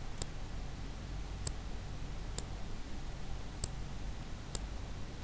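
A computer mouse clicks five times, sharp and evenly spaced about a second apart, each click short and close over a steady background hiss.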